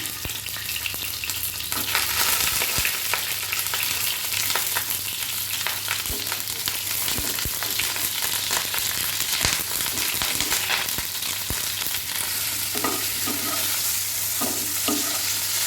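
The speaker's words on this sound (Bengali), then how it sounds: "গরম তেলের মধ্যে কিছু দিলেই চড়বড় করে শব্দ হয়" Loud, continuous sizzling and spattering of cauliflower frying in hot mustard oil in a kadai, with occasional stirring clatters and scrapes, close up and without talk.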